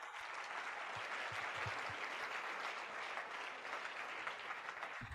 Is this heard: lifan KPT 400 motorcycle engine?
no